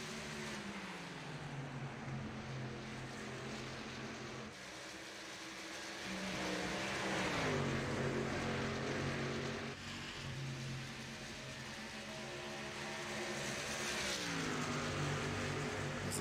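Racing trucks in a NASCAR Truck Series race at Texas roar past in a steady, loud engine drone, their pitch sweeping down and back up as they pass through the corners, with no talk over them.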